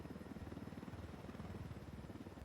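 Helicopter rotor in the video game Ghost Recon Wildlands, coming in to land on a hillside near a large cartel camp; a steady, close, rhythmic thumping drone fills the whole stretch without a break.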